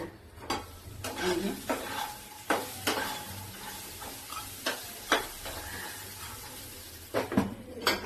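Moringa drumsticks sizzle steadily in hot oil in a pan while a utensil stirs and scrapes them in irregular close knocks and rasps, with no talking.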